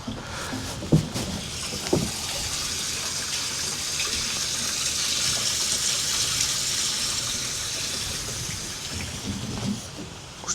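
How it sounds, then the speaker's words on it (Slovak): Water gushing into a tank on a Ford Ranger converted into a mobile water tanker, a steady close rushing flow with a couple of sharp knocks. "Tam bude cez 200 litrov, takže to mi bude na dnes aj stačiť, idem vypnúť vodu"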